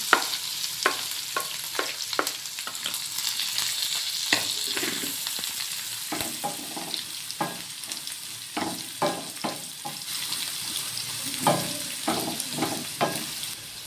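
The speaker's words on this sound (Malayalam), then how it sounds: "അപ്പം നമ്മുടെ കടുകൊക്കെ ഒന്ന് കുത്തി വന്നിട്ടുണ്ട് അതിലേക്ക് ഞാൻ സവാള ഒന്ന് ഇട്ട് കൊടുക്കുവാണ്" Sliced onion frying in oil with spluttered mustard seeds, a steady close sizzle punctuated by repeated sharp crackles and spoon stirring clatter, no talking.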